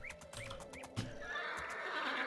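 A horse whinnies in the fantasy game Two Worlds, several short neighing calls repeating near and clear over a steady ambient wash, one louder thump midway.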